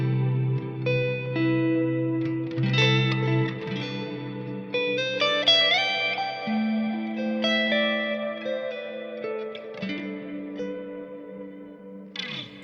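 Electric guitar notes and chords played through delay and reverb set to a medium mix with high repeats and darker tones, each phrase smearing into a sustained ambient wash that rings on behind new notes.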